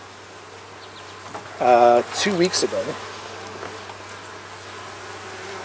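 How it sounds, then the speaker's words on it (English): Honey bees drone in a steady, low buzz from the upper box of a strong hive fitted with a queen excluder, with a few louder passing buzzes standing out briefly and a voice speaking. "You can hear that there's a ton of bees up top here"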